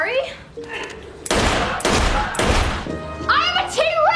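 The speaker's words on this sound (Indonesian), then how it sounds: "Martha langsung meraih pistol dan melepaskan tembakan ke tubuhnya Vaughn" Several loud, close pistol shots from a film burst out in quick succession, each a sharp crack trailing into echoing rumble, with other voices heard just before and after the shots.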